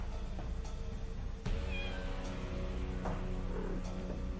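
A cartoon cat in the point-and-click adventure game Deponia meows several times over a steady background of game music, with the calls loud and near.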